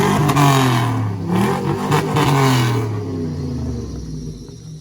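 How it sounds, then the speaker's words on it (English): A rat rod car engine revs hard and close, its throaty roar rising and falling in several bursts before settling into a rougher idle rumble. "Rev it up."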